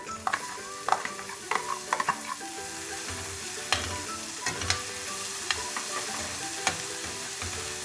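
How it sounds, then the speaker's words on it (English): Finely chopped tomatoes stirred and frying in a pan for egg shakshouka, a steady close sizzle broken by repeated clacks and scrapes of the spoon, with no talk. "Now to this I'm going to add 4 medium-sized tomatoes, really chopped, like really finely chopped."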